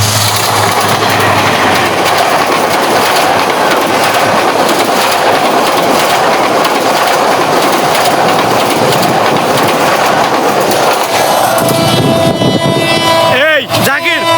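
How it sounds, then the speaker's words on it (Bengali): A train rumbles in near the Sitakunda and Chandranath hills, a loud, continuous roar of wheels and wind close by, ending with sharp sweeping tones as it passes; voices are faintly mixed in. "এখানে ট্রেন আসবে।"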